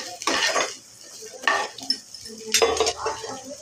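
Onion roasts in a pan while a utensil stirs it, producing a few short bursts of scraping and clinking against the metal over a light sizzle, close and in separate strokes.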